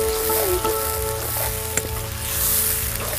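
Onion and masala paste frying in hot oil, a steady close sizzle with faint stirring scrapes, held at an even moderate level throughout with no talk.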